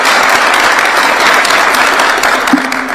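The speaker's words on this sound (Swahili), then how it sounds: "Tumpigeni makofi." An audience at a State House meeting with a Nairobi football club claps in a dense, steady burst of applause that fills the space and eases slightly near the end, with no voice over it.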